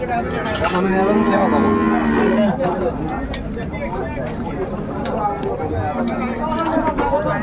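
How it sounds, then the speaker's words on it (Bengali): Cows and calves mooing at a rural cattle market in Dinajpur, repeated loud moos close by amid crowd bustle, with people talking over them throughout. "চমৎকার গাভী বাছুর আমরা দেখছিলাম এখানে।"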